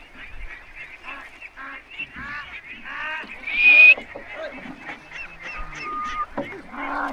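A flock of farmed egg-laying ducks on a riverside farm in Bangladesh quack and honk in overlapping bursts, one loud call rising above the rest, with talk mixed in.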